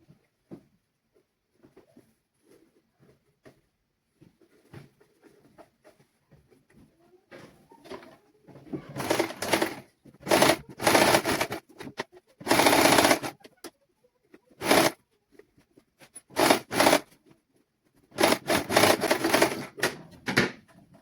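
A sewing machine runs a straight seam on a child's sun suit in repeated short bursts of rapid stitching, loud and close, with quiet pauses between runs.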